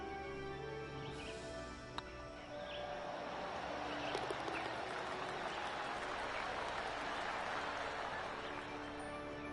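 Sustained crowd applause and cheering in a PlayStation golf video game; it swells after a second and keeps a steady, dense roar to the end with no speech.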